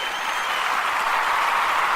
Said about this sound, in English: They were clapping left and right